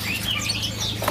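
A red bird from Sumatra calls at Pramuka bird market, giving a series of quick, bright chirping notes close by over a low steady market hum.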